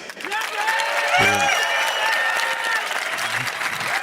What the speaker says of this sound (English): That was better than the Amazon clap.